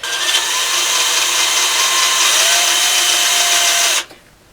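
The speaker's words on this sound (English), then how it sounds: "I'm going to put the drill on reverse, and I'm just going to basically wear a hole into it" A power drill running in reverse, wearing a hole into MDF, whines steadily at close range for about four seconds, then cuts out abruptly, leaving a faint room hiss.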